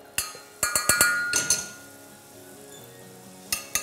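Shallot gently sautéing in melted butter as the base for a risotto: a soft, steady sizzle sits beneath several sharp, close utensil clinks against the pan, spaced irregularly.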